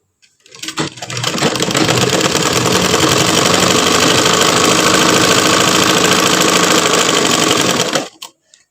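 Sewing machine stitching fabric in a tailoring lesson, a loud, fast, even mechanical whir running steadily for about seven seconds before stopping abruptly.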